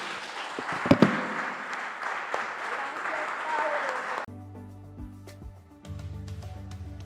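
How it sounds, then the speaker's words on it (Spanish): A church congregation applauds the Lord in a sustained wash of clapping for about four seconds, then it cuts off abruptly to soft music with tonal notes. "Un aplauso al Señor"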